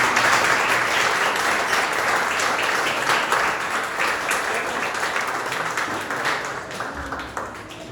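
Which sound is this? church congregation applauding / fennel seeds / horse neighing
church congregation applauding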